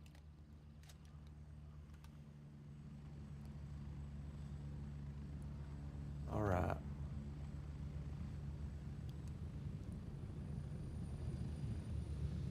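Helicopter in a video game, a steady low rotor and engine drone that builds gradually, with a short louder whoosh partway through and a voice speaking briefly.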